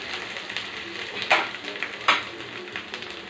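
Onion sizzles steadily in a hot pan with turmeric and curry leaves for a chicken fry, broken by two sharp stirring scrapes against the pan.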